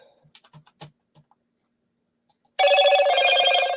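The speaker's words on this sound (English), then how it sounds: "I forgot to mute the freaking phone" A telephone rings loudly and continuously near the end, following a few brief soft clicks and taps, in an otherwise quiet room.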